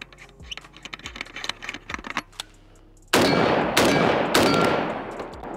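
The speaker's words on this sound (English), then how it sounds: "that's got some freaking muzzle blast" A Riley Defense Krink rifle with a booster and ALG trigger fires three loud, close, booming shots in quick succession, after a stretch of light mechanical clicking and handling noise.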